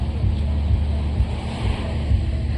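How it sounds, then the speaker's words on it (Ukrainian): Sea waves wash steadily onto the shore at Fontanka on the Black Sea coast, a continuous close surf roar mixed with wind buffeting the microphone. "Ми біля самісінького моря на берегу."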